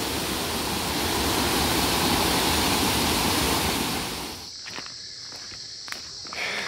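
At Nandroya Falls, a waterfall roars as a loud, dense, broadband rush, fading to a quieter background wash with a few light crunching steps near the end.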